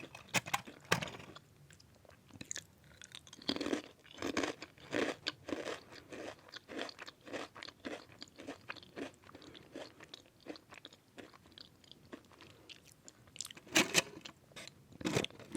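Tiny butter-flavoured Japanese crisps crunched up close, with a steady run of sharp, crisp bites and chewing that rise and fall in loudness, with no talking.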